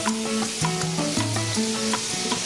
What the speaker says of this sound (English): The best sound, isn't it? The sizzle.